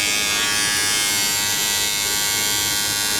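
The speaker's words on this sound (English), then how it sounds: "let me turn it on. Pretty less noise of the motor, but there is some vibration in the hand." Havells GS 6451 electric trimmer running continuously up close, its motor giving a steady, bright buzzing hum with no pauses.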